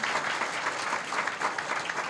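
Audience at a Thai business seminar bursts into steady, dense applause, an even roar of clapping filling the room for a couple of seconds without speech.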